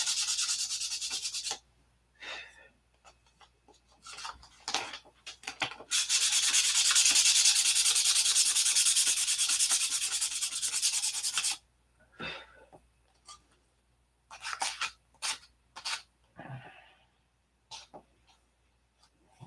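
Sandpaper rubs close up in steady back-and-forth strokes: short scrapes at first, then one long continuous stretch of sanding, followed by a few brief scratchy passes and quiet pauses.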